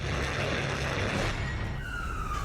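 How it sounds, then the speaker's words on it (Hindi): An emergency siren wails continuously, loud and close, amid street noise as an ambulance races through Kyiv during a missile attack. A rising tone sweeps in near the end. "एम्बुलेंस जान बचाने के लिए दौड़ रही है।"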